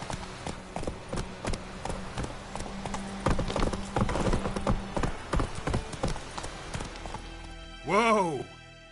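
Roach the horse trots in The Witcher 3, hooves clip-clopping in a steady, close rhythm for several seconds, followed by a loud whinny near the end.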